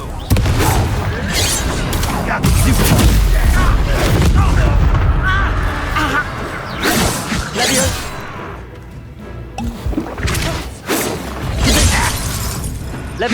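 Fiery Confringo spell blasts in the Hogwarts Legacy video game, a dense run of booming, shattering explosions and whooshes mixed with battle noise and overlapping game voices throughout.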